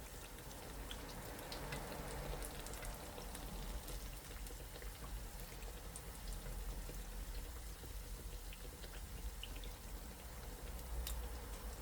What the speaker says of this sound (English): Still bubbling and sizzling.